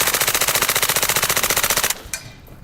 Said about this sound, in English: But now, it's time to shoot.